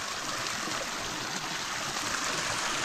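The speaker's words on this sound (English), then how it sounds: "It would appear that the trail has a little waterfall running into it" Snowmelt spills as a small waterfall onto a Sierra hiking trail on the Pacific Crest Trail, a steady, close rushing and splashing of water with no talking.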